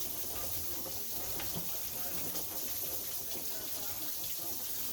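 Very hot water running from a tap into a pan of potatoes, a steady continuous hiss and splash, close and moderately loud, with no break in the flow.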